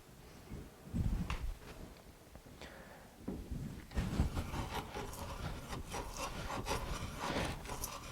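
A large center bit is turned by hand to bore into wood, producing close, rasping scrapes and slicing rubs in uneven strokes, with no talk.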